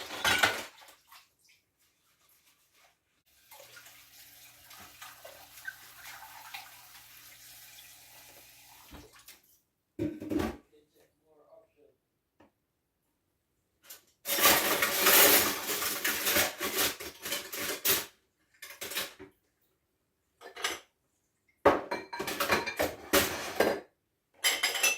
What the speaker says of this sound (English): When we use dishwashers or we wash plates like this, we use so much water.